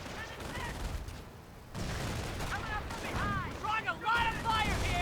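Gunfire and explosions from a World War II battle in the Company of Heroes video game, a dense, continuous fusillade with booms, mixed with shouting voices and talk throughout.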